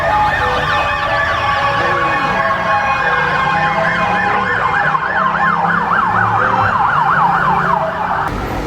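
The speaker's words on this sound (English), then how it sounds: "You can see the ambulance is coming for" An ambulance siren wails steadily on a Bangkok street, rising and falling in a fast repeating yelp over background traffic rumble, fairly close and loud.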